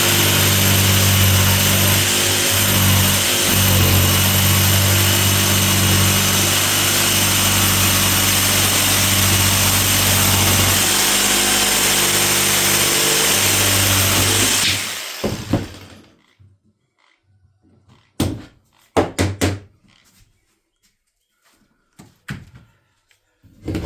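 A power saw cuts a clamped wood board for a small birdhouse, a loud, steady high-pitched whine for about fifteen seconds before stopping abruptly, followed by a few short clattering knocks and handling noises.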